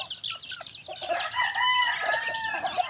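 Chickens on a farm cluck and crow at feeding time, with a rooster's drawn-out crow rising over a busy mix of close clucking calls.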